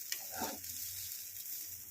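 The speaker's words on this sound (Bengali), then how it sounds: "এইভাবে আমি ভালো করে ভেজে নিয়ে ফেরত আসছি।" Rice frying in a pan for basonti pulao gives a soft, steady sizzle throughout, quiet and unbroken, with no voices.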